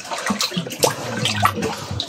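Seawater flows through a channel in a continuous splashing, gurgling rush, close and fairly loud, with irregular bursts of turbulence and no speech over it.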